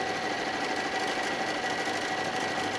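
A sewing machine runs steadily while stitching across the bottom seam of a quilted fabric pouch at a half-inch seam allowance, with a continuous even mechanical whir and no pauses.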